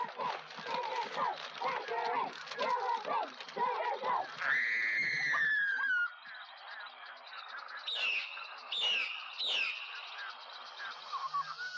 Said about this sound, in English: rather harsh bird and insect noises of the island, very much brought up and loud